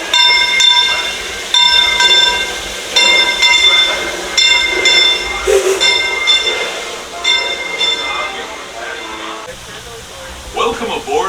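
Disneyland Railroad steam train at the station: a loud hiss of steam, clanks, and high whistle-like tones, with a loudspeaker announcer's voice and nearby crowd talk over it.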